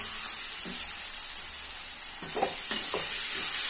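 Masala for chicken biriyani sizzles steadily in a pan while a spoon stirs it in a few soft scraping strokes, with the frying hiss continuous and up close and no one speaking.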